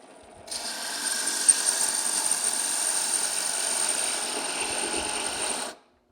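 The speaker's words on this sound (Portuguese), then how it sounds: "Vou colocar um material aqui embaixo e vou fazer o furo por cima aqui" A GAMMA G2320 350 W bench drill press drills into material with a steady, close motor whir and grinding for about five seconds, then stops abruptly.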